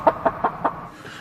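Farm chickens cluck four times in a quick, evenly spaced run, close and fairly loud, then fall quiet.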